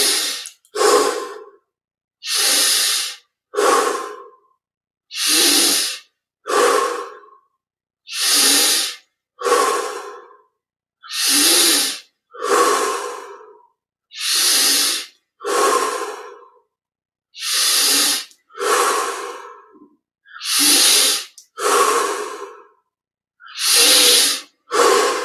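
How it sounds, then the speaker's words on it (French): Slow, deep meditation breathing, with each long inhale and exhale heard as a separate airy rush and short silences between, about a dozen even cycles close to the mic. "On inspire simplement et on expire."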